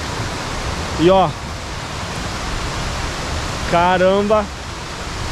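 Cachoeira da Fonte, a waterfall in Faxinal, Paraná, roars as a steady, broad rush of falling water, loud and unbroken throughout, while a voice briefly exclaims twice over it.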